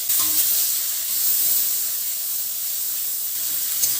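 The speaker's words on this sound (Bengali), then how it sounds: "পেঁয়াজটা ভালো করে কষিয়ে নেব" Onion paste with five-spice seeds fries in oil, giving a steady, even hiss with no clear scrapes or breaks and no one talking.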